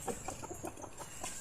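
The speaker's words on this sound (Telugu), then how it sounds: "ఇది మా బ్రీడింగ్ పుంజు అండి." A breeding rooster on a poultry farm gives a few soft, quick clucks, faint and brief with light background noise.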